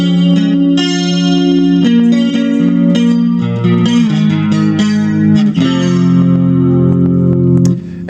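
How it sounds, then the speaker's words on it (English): An electric guitar played through a Roland AC-33 battery-powered amp, set to the wide chorus setting with a little reverb, rings out as sustained, shimmering chords that change every second or so, loud and alone. "And switch it to the wide setting for chorus."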